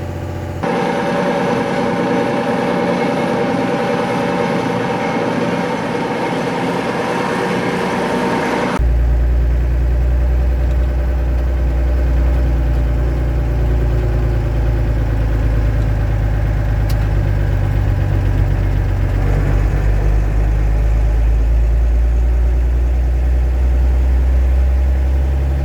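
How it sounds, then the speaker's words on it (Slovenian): A 1935 Renault TN4F bus engine runs steadily and loud up close, a deep rumbling drone with a constant mechanical vibration that grows heavier partway through, with no voices. "Stari avtobus je počasen, hrupen in vroč, vzmetenje pa trdo."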